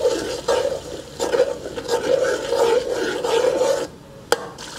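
A spoon stirs three chopped tomatoes cooking in a pot for chicken korma, making a continuous rough scraping and rasping with a few sharp knocks, moderately close and alone.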